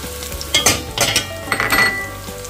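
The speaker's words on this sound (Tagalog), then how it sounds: "Igisa lang natin itong sibuyas" Onion sautéing in a pot for chicken noodle soup, with a soft sizzle under a few clinks and scrapes of a utensil stirring against the cookware, fairly close and with no talk.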